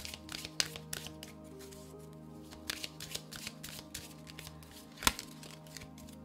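Tarot cards are shuffled by hand in a quick, crisp run of riffling flicks and soft slaps, close and fairly quiet, with a sharper snap near the end.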